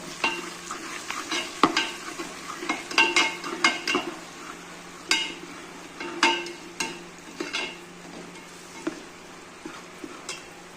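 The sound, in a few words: spices being sautéed in a pan for khichdi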